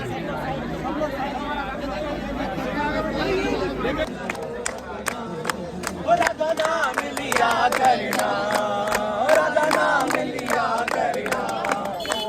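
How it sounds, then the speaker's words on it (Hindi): A large crowd of devotees gathers at night in Vrindavan for darshan, filling the space with steady babble and chatter, with sharp clicks and knocks cutting in after the first few seconds as people move about. "भीड़ आ रही है जा रही है"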